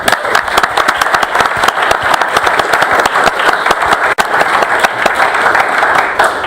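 Audience applause fills a school board meeting room, steady dense clapping from many hands lasting throughout, loud and close with no talking over it.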